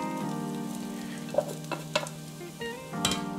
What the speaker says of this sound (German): Das kann ruhig alles jetzt ein bisschen mit anbraten.